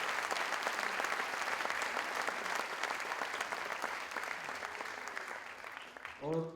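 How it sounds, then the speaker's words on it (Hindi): An audience at a Mumbai Success Day motivational event claps for Raks sir, with dense, sustained applause that slowly fades, then a short voice at the very end. "जोरदार तालियां रैक्स सर के लिए"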